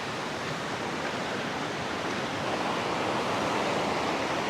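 A rain-swollen river floods over rocks and across a road in hilly rubber-plantation country, giving a loud, steady, unbroken rushing roar.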